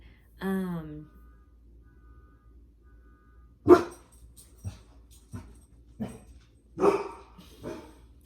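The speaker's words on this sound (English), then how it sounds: "There goes my dog." A dog barks indoors, one loud bark early on, then a run of sharper barks spaced irregularly through the rest, close to the microphone with no talk over them.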